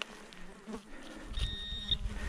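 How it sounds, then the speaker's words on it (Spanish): Flies buzz close by in short, uneven bursts outdoors while metal detecting, the drone rising and fading over a quiet background. "Con las moscas, qué pesadas son, de verdad"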